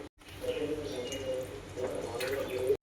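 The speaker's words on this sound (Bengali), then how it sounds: "ঝোলটা ভালো মতন ফুটে গেছে। এবারে দিয়ে দেবো মাছ" Pieces of silver carp go into a thin cumin-paste broth simmering on a gas stove, which bubbles and sputters steadily up close with soft liquid crackling throughout.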